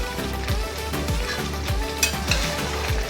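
Chopped tomatoes sizzle in a pan for chicken kosha while a spoon stirs them, with a continuous fry and rhythmic scraping strokes close by, and no talk.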